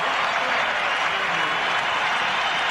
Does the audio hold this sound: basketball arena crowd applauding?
yes